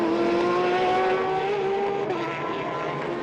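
A race car engine roars past at the 2019 4 Hours of Portimão endurance race, a loud sustained drone whose pitch climbs and then slides downward as it goes by.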